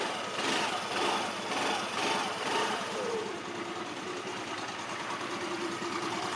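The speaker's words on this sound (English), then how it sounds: "Even if it's a moped, lightly rev it so the engine is heated properly." A small moped engine idles steadily after light revving, with a buzzy, continuous drone, a few slight surges early on before settling into an even putter.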